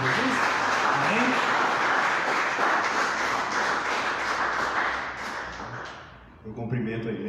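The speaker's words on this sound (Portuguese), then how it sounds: "uma linda salva de palmas para Jesus" A church congregation applauds loudly and steadily for several seconds, the clapping tapering off near the end as a voice begins speaking over it.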